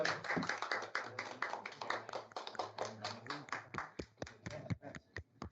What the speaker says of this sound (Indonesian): Thank you Aruna, tepuk tangan dulu.